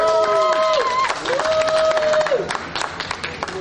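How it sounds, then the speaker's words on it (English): A crowd at an outdoor Native American protest at the Sacramento Capitol claps and cheers loudly and continuously, with steady whistles over the applause. "Give him a round of applause"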